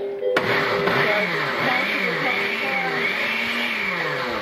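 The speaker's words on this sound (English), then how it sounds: "And it just shreds it right away. Just like that. Put in a couple pieces. Blend them up." A blender starts abruptly and whirs loudly, blending peaches for baby food, its motor pitch wavering as it chops through the contents.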